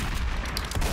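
Shotgun and pistol gunfire in the Roblox game Prison Life, rapid loud bursts of shots with booming low-end, dense and continuous over a second.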